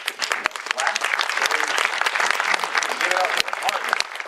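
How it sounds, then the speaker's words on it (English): Audience applause at a Cleveland celebration event honoring partners: dense, steady clapping from a large crowd, loud and sustained throughout with no pauses. "Please, can we just give the partners a big clap?"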